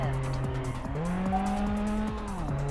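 A Jaguar XJ220 in the Test Drive Unlimited racing game holds a steady engine drone while its tires squeal through the corners, pitch sliding up and down during the racing.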